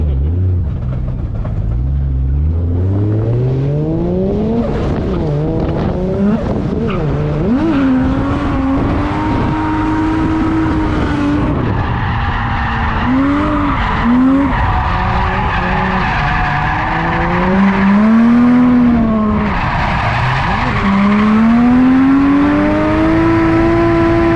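A drift car skids and locks up while attempting a reverse entry, tyres squealing loudly against a droning, rising and falling engine whine that runs continuously and close throughout.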